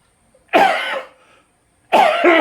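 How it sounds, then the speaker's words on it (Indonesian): Two sharp, close coughs come from an itchy throat during a religious sermon, the first followed by a short rasping tail and then a pause. "Batuk gatal tenggorokan itu."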